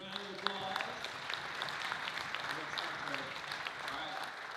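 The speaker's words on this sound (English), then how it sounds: "Josh and Keith a big round of applause." Applause from a Rotary club audience for two guest speakers, steady moderate clapping filling the room with crisp individual claps and faint voices mixed in.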